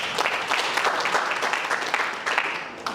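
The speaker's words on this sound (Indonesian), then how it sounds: "Tepuk tangan buat beliau." Audience applause at an organisation's board inauguration ceremony: a brief burst of many people clapping together, fairly dense and steady, fading slightly toward the end with no voices over it.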